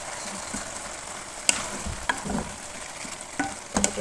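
Chicken pulao mixture being stirred in a pan, a low sizzle under a few sharp clinks and scrapes of the spoon against the pan, close and moderately loud, no voices.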